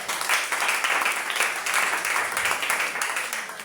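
A church congregation claps and applauds steadily for the Lord, a dense, sustained patter of many hands filling the room throughout.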